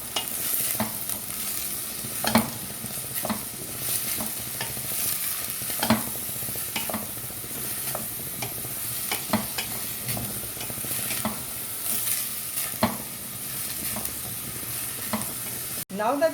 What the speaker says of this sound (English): You can stir it a bit.